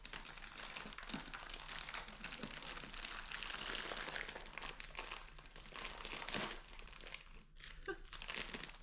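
Continuous crinkling and crumpling of a taped plastic package being opened, with tearing bursts, close up and fairly steady throughout, no talking.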